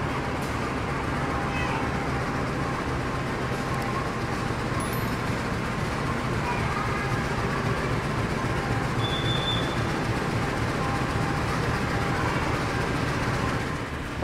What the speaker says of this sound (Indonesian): Proses pemasangan lokomotif itu dipandu oleh juru langsir dan juga ada pegawai sarana